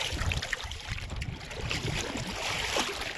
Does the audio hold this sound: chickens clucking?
no